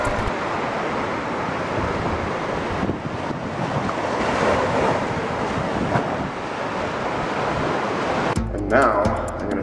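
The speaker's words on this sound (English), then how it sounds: "I come to Mexico for la playa, the beach. So let's go down to the beach" Surf rolls and breaks on a beach in Mexico, a loud continuous wash of waves mixed with wind buffeting the microphone, ending with a brief louder jolt of handling noise.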